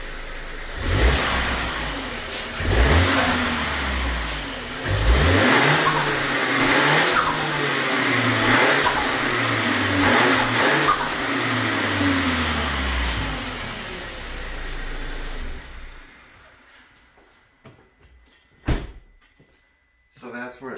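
A 2019 VW Tiguan fitted with a blow off valve revs repeatedly while stationary, several rising engine bursts with whooshing releases, close and loud, with someone talking over it before the engine settles and quiets toward the end.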